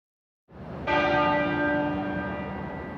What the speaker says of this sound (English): the tenor bell started to toll at 6 o'clock this evening